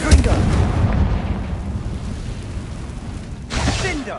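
A Confringo blasting spell goes off in the video game Hogwarts Legacy: a loud, booming fiery burst with a rumbling tail that fades, followed by a second sharp blast near the end. A voice speaks over it.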